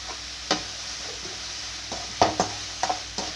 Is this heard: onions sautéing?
yes